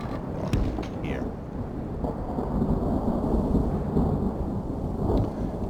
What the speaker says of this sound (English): Now, this rain really is not good for us.